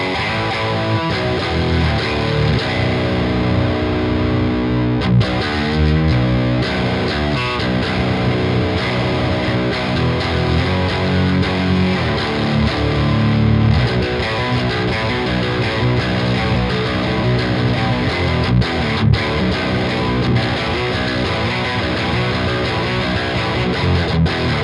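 Electric guitar run through an op amp distortion plugin set for a hard-driven, tube-like stoner sludge tone, playing thick, heavily saturated riffs with sustained low chords that stay loud and dense for the whole passage.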